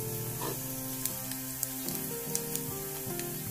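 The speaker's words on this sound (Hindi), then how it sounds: "अब हम इसमें जीरा शामिल कर देंगे।" Cumin seeds sizzling in hot oil with garlic already golden brown, tempering for a masoor and moong dal; a steady, close, continuous fry with faint crackles and small pops throughout.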